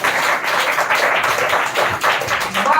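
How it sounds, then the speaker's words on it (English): Audience applause at a speech competition finale, steady dense clapping from a crowd, close and loud throughout. "please again give a huge round of applause"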